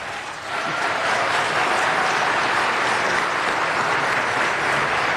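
Audience applause at a city council meeting fills the room as a steady, dense wash of clapping, starting quickly and holding loud and even to the end.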